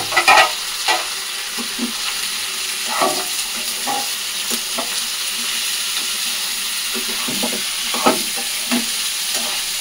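Egg and ivy gourd frying together in a pan over low heat: a continuous close sizzle with repeated spatula scrapes and taps as the mixture is stirred, loudest at the start.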